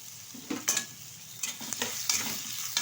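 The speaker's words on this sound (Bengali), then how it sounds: "একটু নেড়ে চেড়ে নেব তেলের সাথে।" Chopped onion, garlic and crushed ginger are stirred in hot oil, with a soft steady sizzle under repeated scraping strokes of a spoon against the pan.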